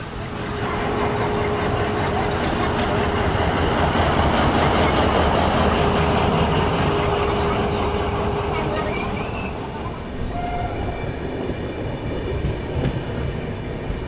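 The Raxaul–LTT Antyodaya Express, an Indian passenger train, running at speed, heard from on board as a loud steady rumble with faint wheel clatter that eases slightly near the end.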